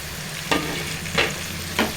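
Spinach goes into a pan of spring onion and green peas for a simple curry, giving a steady low frying hiss broken by three sharp stirring scrapes spaced evenly across the moment.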